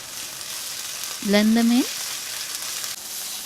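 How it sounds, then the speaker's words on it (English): Garlic and ginger powder sizzling in a frying pan: a steady hiss of frying throughout, with a short spoken phrase partway through. "Fry it for 2 minutes and then add the garlic and ginger powder to the pan."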